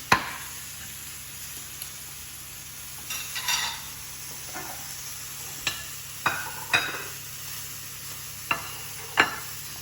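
Garlic and fresh garden basil sizzle in a pan as they are stirred, with a steady frying hiss broken by several sharp scrapes and clinks of the utensil against the pan. Nobody speaks.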